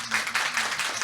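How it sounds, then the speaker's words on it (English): Audience applause at a panel conversation event welcoming a guest, a short steady patter of many hands clapping at moderate distance. "we will welcome her to this conversation with a big round of applause"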